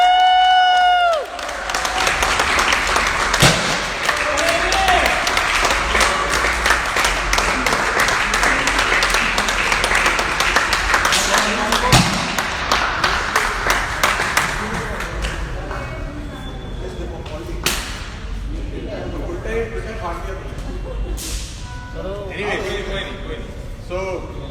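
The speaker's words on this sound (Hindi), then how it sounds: "जोरदार तालियां होनी चाहिए।" A crowd claps and cheers for the unveiling of a new Mercedes car, with loud dense applause building quickly, holding for about fifteen seconds, then thinning into scattered claps and crowd noise.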